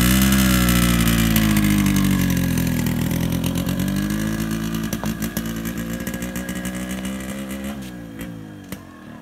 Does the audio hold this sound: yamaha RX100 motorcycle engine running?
yes